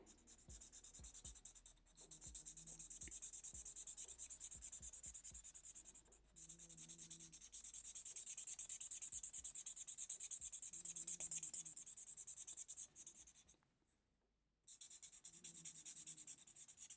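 Pencil shading and drawing on paper, colouring an area black: a steady close scratchy rubbing that runs almost without pause, with short gaps between strokes and one brief silence near the end.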